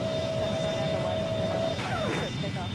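Jet engines of a Boeing MD-80 airliner in the Airline Commander mobile game give a steady loud roar with a sustained tonal whine, then a brief descending swoop near the end.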